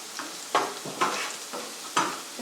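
Garlic frying in a pan is stirred as it browns, with an even sizzle under four rhythmic scraping strokes about half a second apart, close and moderately loud, with no talk.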